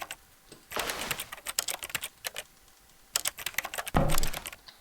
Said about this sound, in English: Pressing all the buttons.